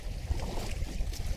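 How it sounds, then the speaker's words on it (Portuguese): Wind-driven waves wash and lap against a boat on the Paranapanema River under strong gusting wind, a continuous faint choppy splashing mixed with wind noise. "olha só como que tá essas ondas"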